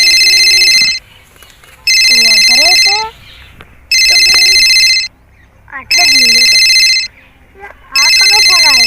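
A phone ringtone plays in five loud, bright, repeating bursts of roughly a second each, with spoken voices filling the gaps between rings in a Gujarati comedy scene.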